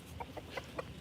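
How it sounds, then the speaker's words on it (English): Chickens in a pen cluck softly nearby, a few short, quiet clucks spaced about every fifth of a second over faint background noise. "Let's bring some fruit to these prisoner chickens."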